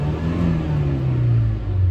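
A 2009 VW Beetle engine revs up in neutral, a steady loud rumble with the pitch sliding slightly downward as it holds near 3,000 RPM, close and continuous with no talk.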